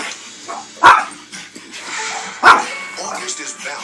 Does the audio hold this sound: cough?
no